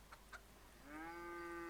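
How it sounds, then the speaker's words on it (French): A couple of short, soft clucks from a chicken in a video game are followed by a longer drawn-out hen cackle, faint and close against a quiet background hum. "Ah, il y a une poule aussi. Oh, il y a une poule."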